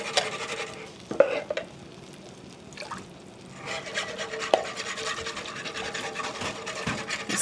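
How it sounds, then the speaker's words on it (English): Swedish meatball sauce simmers in a pan with a soft continuous bubbling and sizzle, broken by scraping, stirring strokes of a utensil across the pan; moderately close, with no talking. "we're just going to let this simmer for just a couple minutes"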